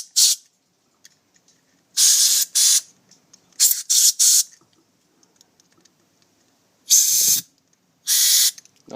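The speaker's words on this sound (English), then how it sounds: "putting carburetor cleaner in all those holes, and then running compressed air through them" Carburetor cleaner and compressed air blasted through the passages of a 1985 Honda 7.5 hp outboard carburetor, heard as five or six sharp, close hissing bursts of about half a second each, separated by quiet gaps.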